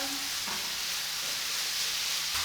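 Vegetables stir-frying for Korean jeyuk sizzle and crackle in a hot pan, a steady close frying hiss with faint scraping as they are stirred.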